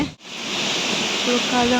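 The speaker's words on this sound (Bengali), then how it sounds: "কি জোর মেঘ ধরেছে আর কি ঝড় উঠিয়েছে" Storm wind and rain sweep across an open field, a loud, continuous broadband roar that starts after a brief dip and holds steady, with a faint voice briefly audible underneath.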